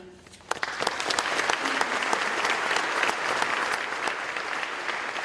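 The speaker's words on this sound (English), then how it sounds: "Give yourselves a round of applause for being here and showing up." An audience at a Grady Fall 2022 graduation convocation breaks into applause. The clapping swells quickly after a quiet start, then holds as a dense, steady ovation filling the hall.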